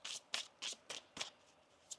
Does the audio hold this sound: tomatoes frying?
no